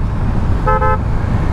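Car horn toots twice in quick succession, short and loud, over a constant rumble of highway traffic on the road from Tadoba toward Mumbai.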